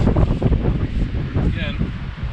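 Wind blows outdoors at a lakeside campsite, a loud, buffeting rumble hitting the microphone throughout, with a voice faintly mixed in.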